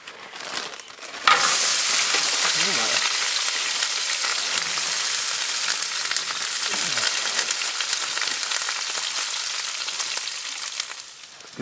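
Frozen bacon sizzling and frying in a pan on a camp stove inside a hot tent during winter camping: a loud, steady broadband hiss starts abruptly and holds throughout, with faint crackle.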